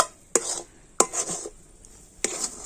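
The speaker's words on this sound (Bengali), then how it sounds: "ঘি দিয়ে আবারও মিশ্রণটা খুব ভালোভাবে এইভাবে নাড়াচাড়া করে নেব" A chhena sweet mixture being stirred with ghee in a pan makes three sharp scraping strokes, each a bright burst followed by a short rustling drag, in an otherwise quiet kitchen.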